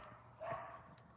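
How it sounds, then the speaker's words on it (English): A dog barking somewhere in the distance, a short faint bark or two rising briefly over quiet outdoor background. "Whose dog's that barking in the distance?"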